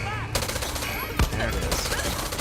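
Gunfire in the video game Far Cry 6 crackles as a dense, continuous burst of shots with one sharper, louder report midway, all under a steady wash of game noise.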